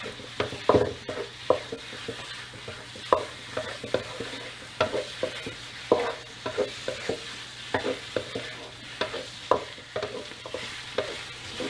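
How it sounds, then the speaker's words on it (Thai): Pork and curry paste sizzle in a hot pan over medium heat while a utensil scrapes and stirs, giving a series of uneven clacks over a steady frying hiss. "แล้วก็ผัดให้เข้ากันค่ะ"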